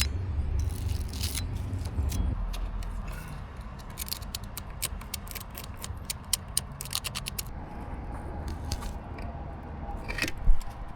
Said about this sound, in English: Brass brush.